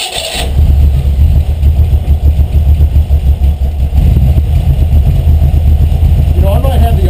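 A Mazda Miata fitted with a 5.0 V8 idles low and lumpy just after starting, a loud, steady rumbling throb with a slight rev near the end, and voices talking over it.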